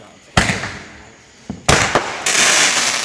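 July 4th fireworks finale with sharp booms and crackling bursts, several loud explosions in quick succession followed by sustained crackle, heard from nearby outdoors.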